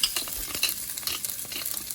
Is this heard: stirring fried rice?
yes